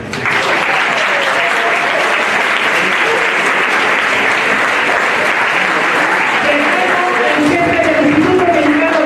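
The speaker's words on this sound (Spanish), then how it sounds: "aplauso" Conference audience applauding a speaker, dense continuous clapping that fills the room evenly and stays loud and steady throughout.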